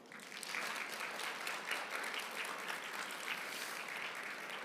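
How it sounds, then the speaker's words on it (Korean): A lecture audience at a job-seeking seminar breaks into dense, sustained applause with some cheering that holds steady throughout, heard from a moderate distance. "박수와 환호 한번 부탁드리겠습니다"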